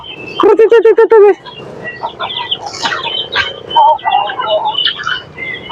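A Brahma chicken clucks close by in a rapid burst of repeated notes, followed by scattered squawks and chatter from other fowl, with a voice speaking over part of it.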